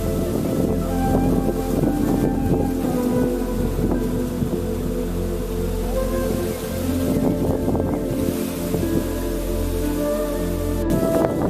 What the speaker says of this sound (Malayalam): മലയിൻ മുകളിൽ നിന്നാൽ കാറ്റ് വീശും